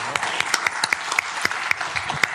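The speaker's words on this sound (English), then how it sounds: "Let's give them a round of applause." Applause at a city council meeting: a small group claps in distinct, sharp slaps with a fairly quick uneven rhythm, close and moderately loud, with no voices over it.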